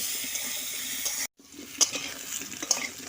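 Potatoes fry in oil with turmeric and salt, a soft steady sizzle with brief stirring scrapes and a short break partway through.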